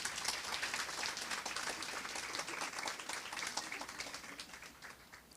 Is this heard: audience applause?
yes